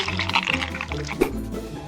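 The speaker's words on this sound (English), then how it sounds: "First, I'll pour in the watermelon flesh." Watermelon-flesh liquid pours steadily into a LEGO ice cream machine for a couple of seconds beneath background music, with a soft gurgling fill and a brief splash near the end.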